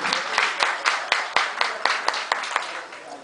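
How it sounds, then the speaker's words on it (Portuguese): At a municipal health conference in Indiaroba, a small audience gives sparse, uneven clapping, with a dozen or so sharp, distinct claps over a few seconds. "Salva de palmas."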